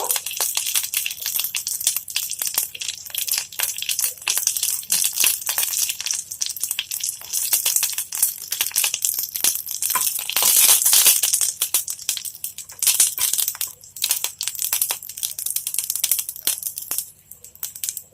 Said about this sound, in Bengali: আমি কারি পাতাগুলো ওই তেলের মধ্যে ভেজে নেব।